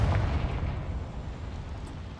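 A single blasting-curse explosion in Hogwarts Legacy opens with a heavy low boom that rolls off into a dense, fading rumble.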